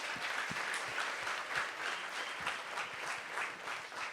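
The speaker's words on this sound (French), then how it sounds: "Est-ce qu'on peut applaudir Énergie?" An audience applauds at an NRJ Antilles awards ceremony, a dense, sustained wash of clapping with individual sharp claps standing out, steady and fairly distant throughout.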